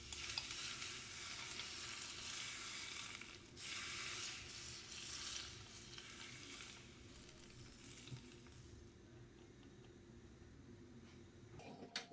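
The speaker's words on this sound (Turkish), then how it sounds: "kaynamış olan sıvı yağımızı üzerinde yavaşça döküyoruz" Hot boiled oil poured slowly over a red cabbage salad gives a faint, steady crackling sizzle that fades out over several seconds into near silence, with no talk.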